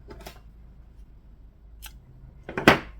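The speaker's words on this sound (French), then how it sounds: "couper mon fil" Scissors snip through crochet yarn, a couple of quiet close clicks followed by one sharper, louder cut at the end, with no talking.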